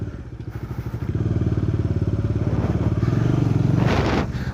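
A motorcycle engine roars close up as the throttle is opened hard for a sharp turn on a riding course, a loud pulsing drone that swells and then drops away near the end.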